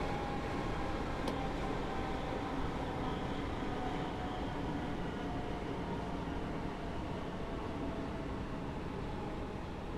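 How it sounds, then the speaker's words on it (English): A Class 313 electric train in Train Simulator 2017 slows on the approach to New Barnet station, giving a steady, loud rumble of wheels and running gear with a faint high whine throughout and no voices. "now I'm going to apply the brakes for our stop at New Barnet station"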